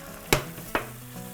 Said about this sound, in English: fry the rice